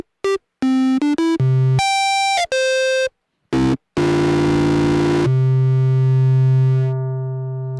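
A synthesizer runs through a drive pedal, playing a series of short, clean tones at different pitches separated by silences. A longer buzzy, near-square tone follows and sustains before fading slightly at the end.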